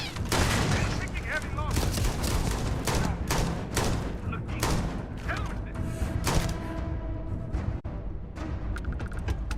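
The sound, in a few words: turret gunfire in Starfield video game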